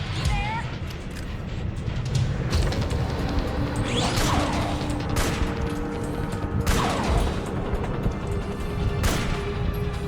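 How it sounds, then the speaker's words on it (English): Missile launches in Metal Gear Solid 4: loud whooshing bursts and crashing impacts at irregular intervals over a dense mechanical rumble, with someone talking underneath. "she's launching missiles with that damn thing"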